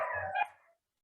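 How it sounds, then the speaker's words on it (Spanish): A single dog bark, short and moderately loud, sounds at a middle distance before cutting off into silence. "me escuchan con los perros ahí ladrando"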